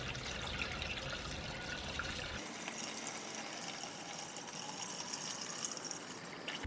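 Coolant poured through a funnel into a Saab 9-3 2.0T, a faint continuous gurgling trickle of liquid, steady and close, with a shift in tone partway through.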